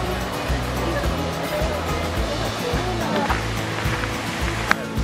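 A waterfall rushes beside a muddy trail in Silver Falls State Park, a loud steady roar filling the clip with continuous low rumble and no break.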